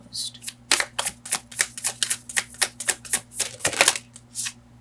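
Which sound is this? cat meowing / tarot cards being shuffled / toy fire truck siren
tarot cards being shuffled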